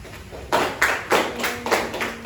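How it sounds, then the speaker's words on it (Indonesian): A few people clapping for a student group in a classroom, in a loose, uneven rhythm, about six claps, close by and moderately loud, with no talking. "Beri tepuk tangan untuk kelompok 4."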